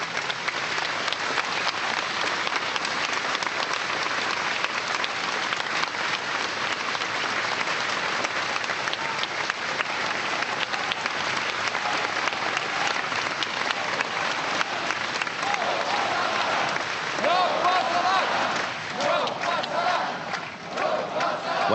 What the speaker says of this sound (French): cette manifestation qui est en train sans doute de se terminer dans les applaudissements très forts que vous entendez autour de moi